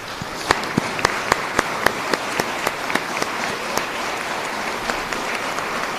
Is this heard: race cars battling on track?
no